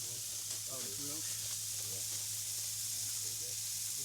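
Burgers fry on a campsite grill, giving a steady hiss of sizzling at moderate loudness, with faint voices speaking quietly underneath.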